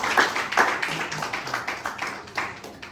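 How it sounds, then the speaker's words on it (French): Church congregation clapping together to acclaim the Lord, a steady run of close, fairly loud handclaps in an indoor hall, with faint voices mixed in. "On acclame pour le Seigneur."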